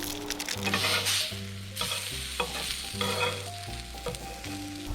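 Redfin perch fillets fry in a pan with a bright, continuous sizzle and crackle, close up, running beneath prominent background music with no talking.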